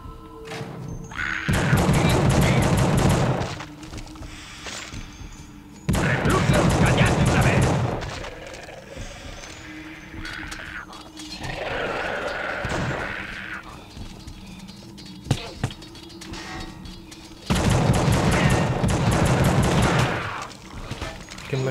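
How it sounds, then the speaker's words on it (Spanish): Bursts of rapid gunfire in The Suffering on PS2, loud automatic volleys lasting a couple of seconds each, repeated four times with quieter gaps, scattered thuds and a few single shots in between. "¿Quién me está disparando?"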